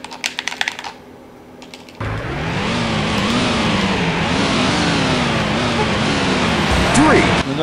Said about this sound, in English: Bring up those revs.